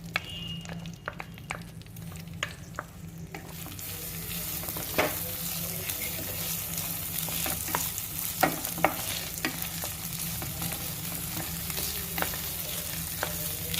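Washed rice roasts in warm ghee for rice kheer, a continuous close sizzle that swells after a few seconds while a spoon scrapes and stirs through the grains in repeated strokes, with no one talking.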